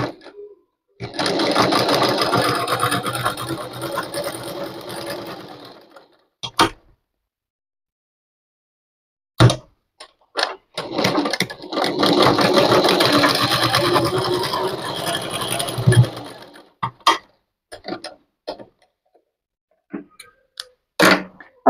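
A sewing machine stitches a tassel for a blouse, running in two long steady whirring bursts of several seconds each, close and loud, with short clicks and handling taps in the pauses between runs.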